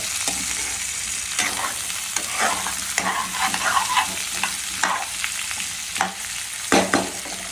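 Drumsticks and potatoes frying in a pan, a dense continuous sizzle with scraping stirs and clinks of the spoon recurring throughout, close up with no talk.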